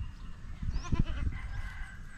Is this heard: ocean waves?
no